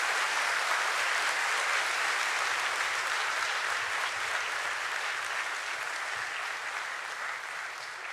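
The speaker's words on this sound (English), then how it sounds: "I would request you to please greet her with a huge round of applause before she addresses us today" A large audience at a financial markets session gives a sustained round of applause, thick and continuous, tapering slightly toward the end.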